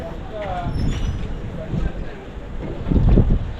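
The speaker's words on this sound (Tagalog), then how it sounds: "Mahangin ngayon." Gusty wind buffets the microphone outdoors at a lechon house in low rumbling surges, strongest near the end, with faint voices in the background.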